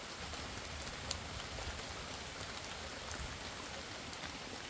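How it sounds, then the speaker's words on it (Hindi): Heavy rain pours down steadily outdoors, a dense continuous hiss of drops beating on surfaces and a vehicle, loud and unbroken with no voices. "बारिश और तेज होने लगी"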